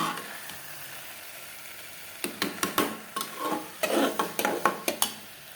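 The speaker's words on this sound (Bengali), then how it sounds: "এই যে খিচুড়িটা এখন নাড়াচাড়া করবো।" Khichuri of rice and lentils stirred in a cooking pot, a spoon scraping and clacking against the pot in a quick series of strokes over a soft sizzle, close and fairly quiet.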